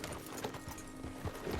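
Horse hooves clip-clopping at a walk in the Red Dead Redemption 2 open world, a steady soft rhythm of hoofbeats over a low constant background hum, with no talking.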